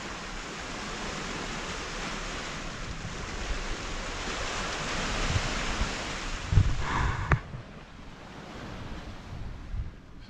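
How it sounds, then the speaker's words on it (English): Sea waves wash against rocks below a cliff in a steady rushing surge with some wind noise, and a brief louder bump comes near the end. "hear the sea lapping against the rocks down below"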